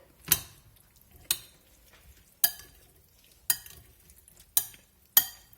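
Red and white beans for a cowboy caviar salad are tossed together in a bowl, giving six evenly spaced wet clattering scoops about a second apart, close up with quiet pauses between.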